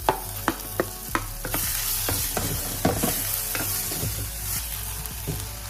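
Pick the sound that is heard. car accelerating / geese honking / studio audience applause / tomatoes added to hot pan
tomatoes added to hot pan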